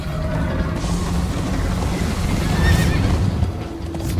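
Horse neighing and galloping in the Minecraft Story Mode video game, a loud whinny over steady hoofbeats and rumbling chase noise that swells slightly toward the end.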